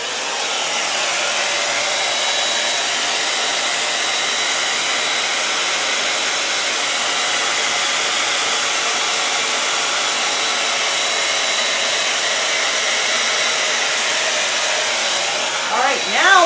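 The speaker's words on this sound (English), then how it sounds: "I'm going to blow that over the other way." A hair dryer blowing acrylic paint across a canvas for a split base Dutch pour, a loud continuous airy roar that holds steady throughout, with a slight shift in pitch right at the end.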